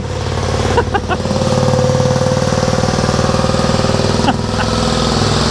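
A BMW 1200cc four-cylinder motorbike idles just after start-up, a smooth, steady mid-pitched engine hum with an even rapid pulse, close and loud, with a couple of brief blips near the start and end.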